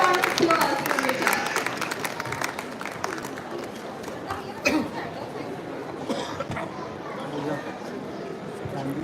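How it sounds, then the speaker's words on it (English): At an author and publisher felicitation ceremony at a book fair, a round of applause scatters across the room, mixed with crowd chatter and voices. "That's a huge round of applause for Megha."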